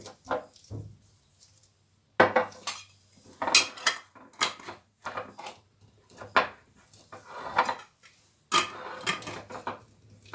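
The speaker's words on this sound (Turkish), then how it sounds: "Şimdi kavanozlarımızın kapağını sıkıştıralım." Glass pickle jars of fish and pepper pickles having their lids screwed tight, a run of close, irregular clinks, scrapes and clicks of metal caps on glass, with short quiet gaps in between.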